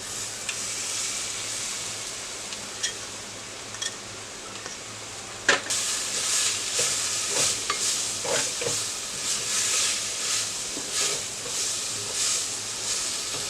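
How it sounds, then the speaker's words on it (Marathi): Fenugreek leaves and chicken stir-fried in a clay pot for methi chicken, giving a steady sizzle with repeated scraping and stirring clatters close by, louder after the first few seconds, with no talk. "परतून घेऊया। मेथीची पानं घालून घेऊया।"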